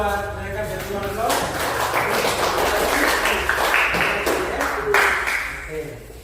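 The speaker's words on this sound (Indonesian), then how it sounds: "tepuk tangan buat mereka berdua dulu" A classroom of students applauds two classmates at the front, a dense burst of many hands clapping that builds and holds for several seconds, with a voice speaking at the start before the clapping fades.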